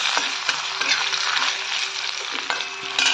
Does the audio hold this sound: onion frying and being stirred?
yes